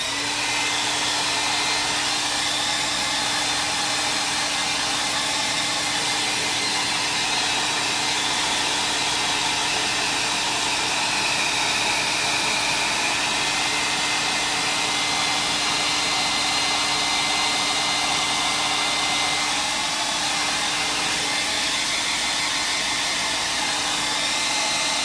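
A hair dryer blows steadily on wet paint, a loud, continuous whooshing roar with a faint hum underneath that holds unchanged the whole time.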